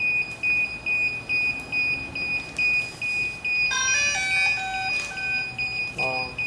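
Steady high electronic beeping from a DJI Phantom 4 remote controller runs throughout, then quick cheerful melodic chimes from the DJI Phantom 4 drone powering on ring out twice over it.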